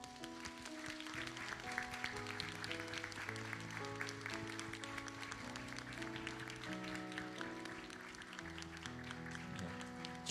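A church congregation gives a long, steady round of encouraging applause, the clapping faint and distant under sustained organ or keyboard chords, with no talking.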